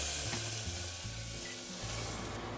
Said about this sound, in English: So our butter is going to go right in our pan.